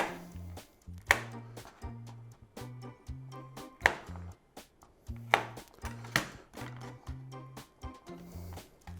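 Near, crisp, irregular knife taps sound while garlic nubs are trimmed off, a dozen or so sharp cuts on a board over a steady low musical beat.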